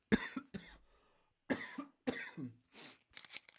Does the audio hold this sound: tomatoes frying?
no